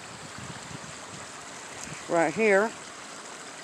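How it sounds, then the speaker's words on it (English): A small outdoor stream flows with a steady, soft watery wash heard throughout, while a person briefly speaks near the end. "There it's flowing. And it keeps flowing."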